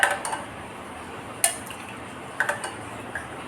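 A spoon clinks against a glass while scooping litchi crush into it, a few light metallic taps spaced apart over quiet room tone, with a faint wet slide between strikes.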